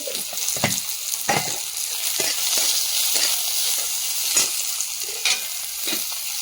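Chopped onion and whole cumin fry in a little oil with a continuous bright sizzle, broken by soft stirring scrapes at uneven intervals, close up and without speech.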